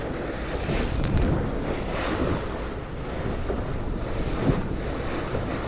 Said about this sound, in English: Let me know if you can hear the wind or if my voice cover the wind.